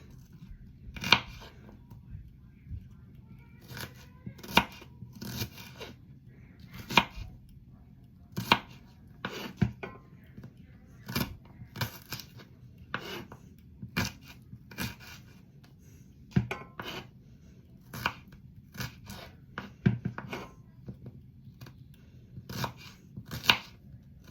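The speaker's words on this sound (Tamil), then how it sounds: "இதையும் கட் பண்ணி தான் போட வேண்டும்" Small onions chopped by hand for a Tamil tilapia fish curry: steady, close knife strikes on a board, dozens of sharp taps at an irregular working rhythm through the whole stretch, with no talking.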